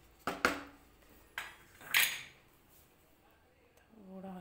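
A metal spoon scrapes and clinks against a pan while chicken korma cooks in yogurt, giving a few sharp, scattered clanks, and then a voice comes in near the end.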